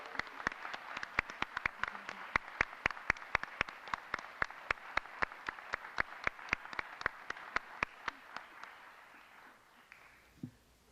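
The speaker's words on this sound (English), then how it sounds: "Please join us in a round of applause celebrating this generous gift." Audience applause at a school's 30th-anniversary opening ceremony, celebrating a gift: crisp, evenly spaced claps from a small crowd that keep a steady pace and fade out toward the end.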